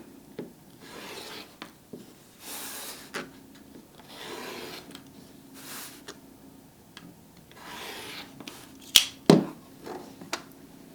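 Excess fabric gets trimmed off a quilt block with soft, intermittent cutting and rubbing strokes, short scrapes and light ticks scattered across the stretch, ending in a couple of sharper clacks.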